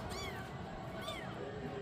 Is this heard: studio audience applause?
no